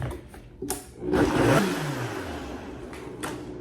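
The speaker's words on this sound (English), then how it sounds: "So I'm gonna blend this until it is smooth." A blender whirs up with a rising motor surge as it blends nettle crepe batter with a pinch of salt, a loud, steady mechanical whine that settles into a continuous hum.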